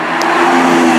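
A Lamborghini Aventador driving over road bumps and painted road markings, heard as a loud, steady cabin rumble and engine drone throughout.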